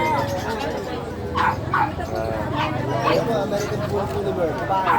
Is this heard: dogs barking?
yes